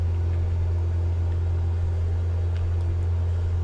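A simulated aircraft engine in Microsoft Flight Simulator 2024 drones steadily at reduced RPM, a deep constant hum with a low rumble, alone and even in loudness throughout.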